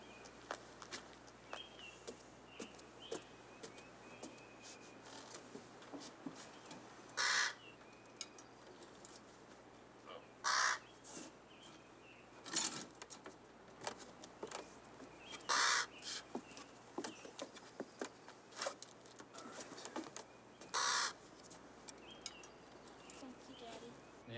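A raven caws in short, bright bursts spaced several seconds apart, loud against a steady outdoor background with faint footsteps and occasional soft rustling.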